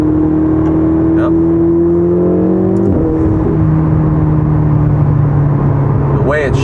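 A Ferrari engine with a 7-speed dual clutch transmission revs up in steady pitch rises, broken by a sharp gear shift, heard loud from inside the cabin while someone talks.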